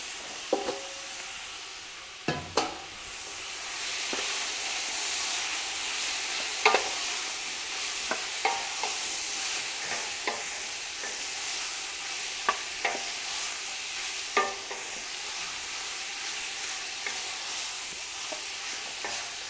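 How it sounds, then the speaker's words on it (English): Lamb pieces for a Moroccan tagine fry in a pan with a soft, constant sizzle, while a spoon stirs and scrapes at irregular moments, each scrape a brief louder knock over the hiss. "we're going to add the meat back in, and whatever's left in the bowl"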